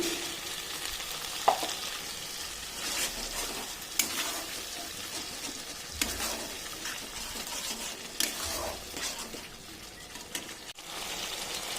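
Water from a mixer jar hits frying spices in a pan for a bhetki fish curry, a hissing sizzle with repeated splashy bursts and stirring clinks that rise and fade over a steady frying background.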